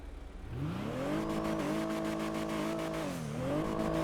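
A steady synthetic engine drone from a Chavos V6 car in a video game, with a smooth, slightly rising and dipping pitch as it idles and revs, loud and continuous with no talk.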